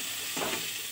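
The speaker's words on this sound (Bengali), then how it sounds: "আলুগুলো ভেজে নিই আমি ঝটপট" Potatoes frying in a pan for a home Diwali meal: a steady hiss of hot oil sizzling close by, with a brief stir in the middle and no voices.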